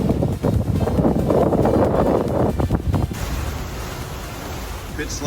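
Big ocean waves wash over an HH52 sailing catamaran underway, a loud close rush of water and wind buffeting that slackens into a steadier hiss with a faint voice in the background.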